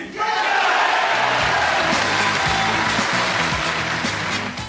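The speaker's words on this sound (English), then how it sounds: "Crowd here in the Crucible are going mad for Bradford's Joe Johnson" A packed Crucible snooker crowd roars continuously for Bradford's Joe Johnson winning the 1986 World Championship, loud sustained cheering and applause with shouts throughout.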